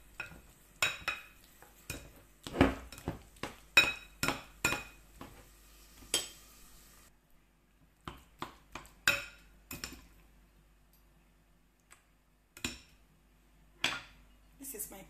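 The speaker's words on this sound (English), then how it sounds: "Now I want to mash it a little bit with this spoon that I hold." A spoon mashing boiled garden egg in a pot, giving a run of sharp metallic clinks and scrapes in irregular bursts, close up, with a short pause partway through.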